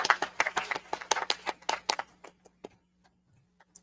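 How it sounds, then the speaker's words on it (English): A small indoor gathering gives sparse, scattered applause for local attendees at a spiritist symposium, a couple of seconds of clear individual claps that thin out and fade to a few last claps. "give them a hand of applause."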